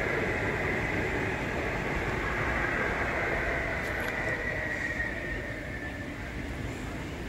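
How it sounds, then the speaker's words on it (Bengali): Kolkata North-South Blue Line metro train pulling out of Dum Dum toward Belgachia, a steady close rumble and rush of the running carriage with broadband hiss and a brief faint squeal midway, easing slightly toward the end. "Kolkata north south blue line metro Dumdum ছেড়ে বেলগাছিয়ার দিকে যাচ্ছে।"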